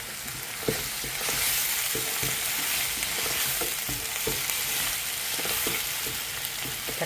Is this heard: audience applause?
no